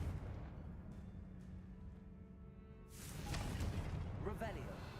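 A Confringo fire spell is cast in the video game Hogwarts Legacy, a sudden whooshing blast with crackling burst rising over low ambient game sound, under faint talk.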